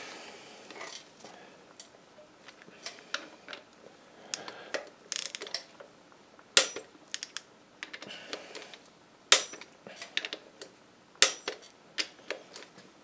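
Ratchet clicking in short irregular runs while bolts are torqued down during piston installation in a diesel engine, close but fairly quiet, with sharper snaps of the tool scattered through.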